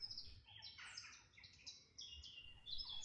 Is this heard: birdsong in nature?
yes